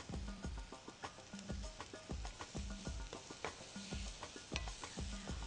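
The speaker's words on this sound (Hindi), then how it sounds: "फ्राई करते जाएं और जब एजेस प्याज के थोड़े से गोल्डन होना शुरू हो जाएं" Onions fry in a pan with a soft sizzle, broken by rhythmic, repeated stirring scrapes and taps of a utensil against the pan, close and fairly quiet.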